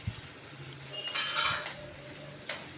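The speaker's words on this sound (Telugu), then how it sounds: "ఇప్పుడు పచ్చిమిరపకాయలు, ఉల్లిపాయ, కరివేపాకు ఇవి వేసి వేచాలి." Green chillies, onion and curry leaves frying in a pan at home, giving a soft steady background sizzle with a few louder stirring clinks and scrapes of a utensil against the pan, with no talking.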